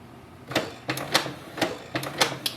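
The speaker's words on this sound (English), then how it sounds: "Printer will make some noise. It's activating the ink cartridges." A Canon PIXMA TS3725 inkjet printer's mechanism clacks and clicks while activating its ink cartridges, a series of sharp, uneven mechanical knocks, close up, with a low whirring hum underneath.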